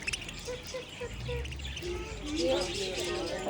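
Budgies in an aviary chirp and twitter in short, bright bursts, growing busier and louder toward the end, with people talking nearby.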